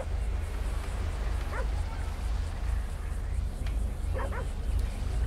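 A dog in the GTA 5 video game gives a couple of short, moderately faint barks, spaced a few seconds apart, over a constant low rumble of background noise.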